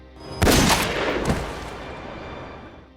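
Gunshots in an action film ring out as two loud, sharp blasts about a second apart, each with a booming echo that slowly fades into a low rumbling tail, with no speech.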